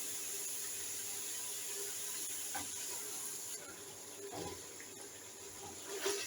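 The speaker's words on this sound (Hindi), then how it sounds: "पानी डालूंगी।" Water runs steadily into a cooking pot of browned mutton for a matka kunna gosht, a continuous close hiss and splash that swells slightly near the end.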